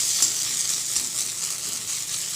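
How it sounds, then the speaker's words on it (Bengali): Spices frying and being stirred in a pan, a steady close sizzle filling the whole short stretch with no speech. "মশলাগুলো ভালো ভাজা হয়ে কষেও গেছে"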